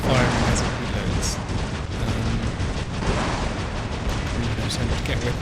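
Dense, loud barrage of heavy robot weapons firing in the War Robots game, booming blasts and crackling impacts running without pause, with a player talking over the din.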